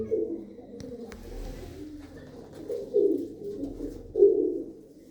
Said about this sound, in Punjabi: ਬੜੀ ਚੰਗੀ ਆ ਕਬੂਤਰੀ ਇਹ ਵੀ ਆ ਦੇਖੋ ਬਈ